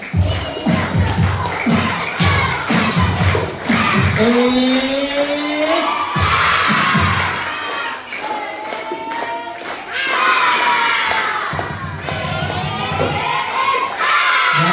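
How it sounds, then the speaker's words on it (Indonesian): Preschool and primary school children clapping and shouting together at a storytelling session, loud sustained cheering and rhythmic claps filling the room, with brief voiced shouts rising over the din. "Tepuk tangan sambil teriak"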